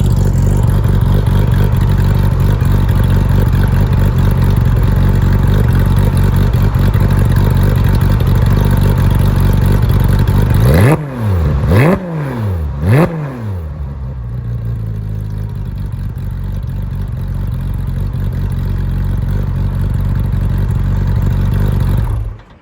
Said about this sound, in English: I'm gonna give you a couple of revs.